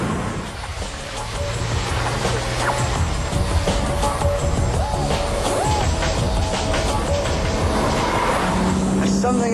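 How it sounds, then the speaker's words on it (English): A BMW Z4 with a straight-six engine and six-speed manual gearbox revs hard while driving, a steady, loud engine drone that climbs in pitch, with a voice talking over it. "There's something about the yowl of a straight six."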